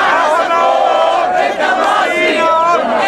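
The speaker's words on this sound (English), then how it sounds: "It's a roar of sound because everyone's so excited and they're singing songs of the revolution and they're shouting slogans." A huge excited crowd in a Cairo square during the revolution roars continuously, a loud dense wall of voices singing songs and shouting slogans together.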